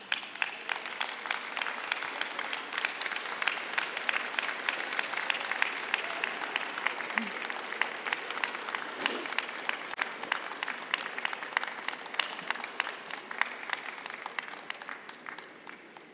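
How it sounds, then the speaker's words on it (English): Graduates at a university convocation applaud, a long, moderately distant run of many hands clapping that stays steady for roughly sixteen seconds and slowly tapers toward the end. "give them thanks by applauding them"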